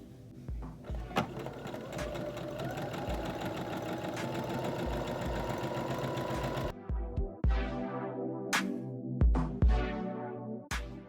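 A sewing machine stitching a fabric face mask, running in a steady mechanical whir before breaking into shorter bursts of stitching with clacks in between, close and alone.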